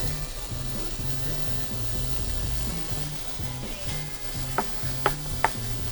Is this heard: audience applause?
no